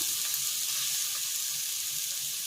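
Ginger-garlic paste fries in a pan, giving a steady, close sizzle with a bright hiss that holds evenly throughout and no talk over it.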